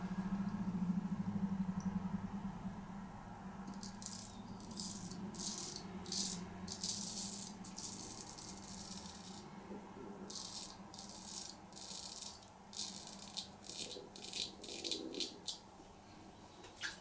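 A C V Heljestrand MK 32 straight razor shaving in clusters of quick, crisp scraping strokes, close and audible, separated by short pauses over a faint background hum.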